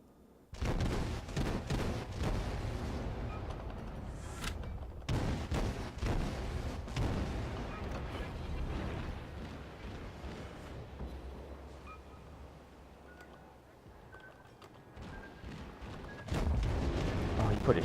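Naval gun salvos from a Tier IV Russian destroyer, the Izyaslav, in a warship video game: repeated deep booms and rumbling blasts, loud and close, with a quieter stretch of low engine drone in between.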